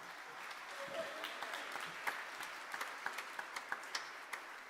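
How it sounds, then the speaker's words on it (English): An audience applauds at a Christmas jazz concert, with sustained clapping that stays fairly soft and distant, a few sharper individual claps near the end, and faint voices mixed in. "How about a round of applause for the Queen of the Blues in the Motor City?"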